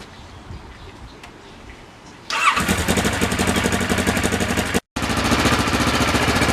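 An older Kawasaki Ninja motorcycle, kept in running order, cranks and fires up from quiet and settles into a loud, close, throbbing idle, which drops out for a split second before it picks up again.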